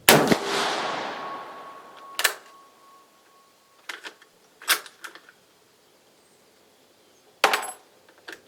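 An R.T. M38 Carcano cavalry carbine in 7.35 with a bad bore fires at a range: a loud sharp report that rings out and decays over about two seconds, followed by several fainter clicks and clacks of handling and another sharp crack near the end.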